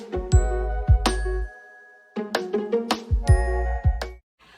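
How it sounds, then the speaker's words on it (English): Bright chime-like dings play as a short sound effect, a pair of ringing tones, a pause, then a quicker run of several tinkling dings, clear and alone. "turn on the notification bell"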